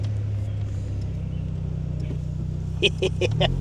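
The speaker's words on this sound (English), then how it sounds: "I'm gonna drive around the block." A cabriolet project car idles and pulls away with a steady low engine rumble close by, followed by a few short sharper bursts near the end.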